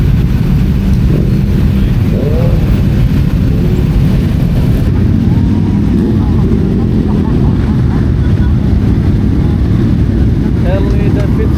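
A Harley Davidson motorcycle engine rumbles loud and close in a dense, continuous low roar among other bikes on a Sunday morning group ride to Senayan City, with people talking over it.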